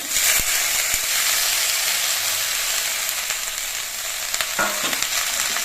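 Bitter gourd leaves are stirred and fried with spices in a pan, with a loud continuous sizzle and hiss, spatula scrapes and a few sharp clicks near the end.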